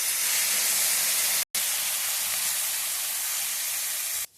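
Maggi noodles fry in butter in a hot pan, giving a loud, steady, close hiss and sizzle that breaks off briefly and then carries on before stopping.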